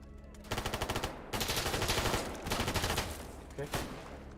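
Enemy gunfire in S.T.A.L.K.E.R. GAMMA, repeated rapid automatic bursts separated by short pauses, loud and close, with a sharp single shot near the end and no talk.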